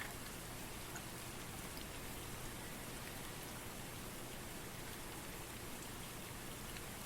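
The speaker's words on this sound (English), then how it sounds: "Go ahead and put a rain." Steady, even rain falls across a WWI battlefield in the game Rising Front: WW1 Simulator, a dense hiss of drops beating on the ground with no break and no voices.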